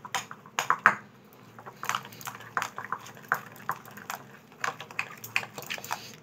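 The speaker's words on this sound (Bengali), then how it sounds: "এই টক দইটাকে ওই আমুল দুধ দিয়ে ভালো করে ফেটিয়ে নেব" Sour yogurt is whisked with Amul milk in a bowl, giving a run of light, irregular clinks and taps of the utensil against the bowl, close and fairly quiet.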